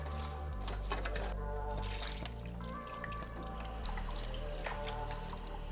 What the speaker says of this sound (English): We're gonna add the vegetable stock.